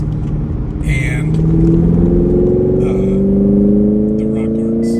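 A bone-stock 2023 Chevrolet Camaro 2SS 1LE V8 revs up loudly with rising engine tones heard from inside the car, with brief bursts of talk over it.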